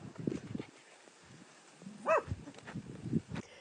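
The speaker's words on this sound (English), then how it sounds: "Came past a couple of stray dogs," Stray dogs on a road in southern Morocco give a few scattered, moderately close barks and growly yelps, with one sharper, higher yelp in the middle and quiet gaps between.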